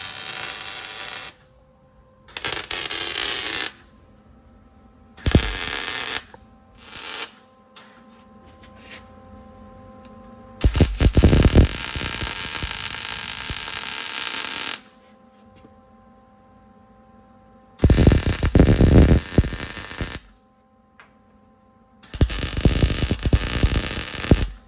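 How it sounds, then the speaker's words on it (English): Washers and nuts are being welded onto a broken bolt on an old Ford shoebox car, in loud crackling bursts of several seconds separated by quiet pauses. "I saw somebody weld a washer to a broken bolt, then put the nut on there, and then weld that."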